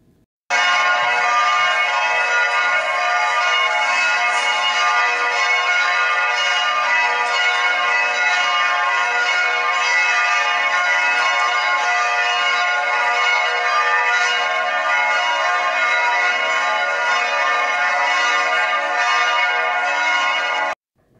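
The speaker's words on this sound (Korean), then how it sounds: "이 바로 성 스테반 대성당 종소리입니다" Bronze bells of St. Stephen's Cathedral in Vienna, the great bell cast from 21 tons of bronze, ring out in a loud, continuous harmonic peal that sustains for about twenty seconds before stopping.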